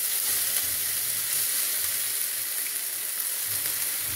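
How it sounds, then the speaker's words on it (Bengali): Masala spices hit hot oil and sizzle loudly and continuously, a close, crackling fry with no talking. "ডাইরেক্টলি মশলাটা দিয়ে দেবো"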